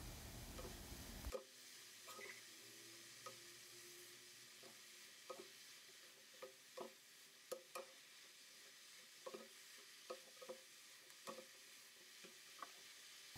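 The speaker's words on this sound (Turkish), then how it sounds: "lahanaları birden eklemeyelim. Azar azar ekleyerek karıştıralım" Cabbage is stirred in a pot while cooking kapuska: faint, scattered scrapes and clicks of a spoon over a soft, low sizzle, with nobody talking.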